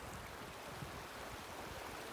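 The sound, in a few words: mountain creek flowing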